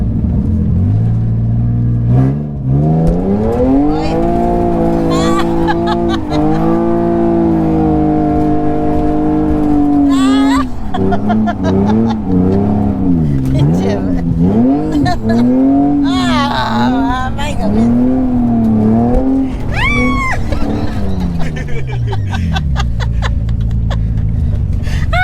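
A drift car's engine revs hard and climbs in pitch during a test drive in Mexico, loud and close throughout, rising and falling through repeated throttle blips, with laughter and voices mixed in.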